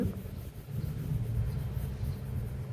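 Coloring a drawing of Casper the ghost with a felt-tip marker on paper, a soft continuous scratchy rubbing close to the mic, steady strokes with no pauses.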